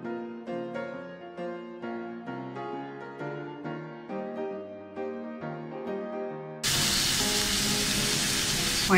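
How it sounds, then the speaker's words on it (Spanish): Chopped onion, garlic and celery start frying in a little olive oil, a loud, steady sizzle that bursts in after a stretch of background music and holds to the end. "Vamos a sofreír estos ingredientes en un poquito de aceite de oliva."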